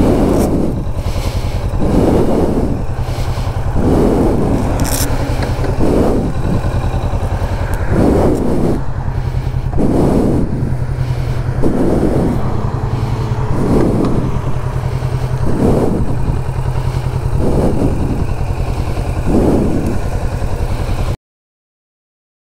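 A 2020 Kawasaki Vulcan S motorcycle running its stock exhaust, engine revving up repeatedly in regular bursts over a steady idle rumble, close and loud.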